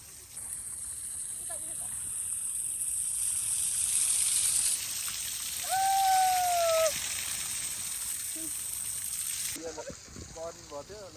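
A waterfall pours continuously in a broad, steady rush of splashing water, with a short tonal whistle partway through and people's voices faintly mixed in toward the end.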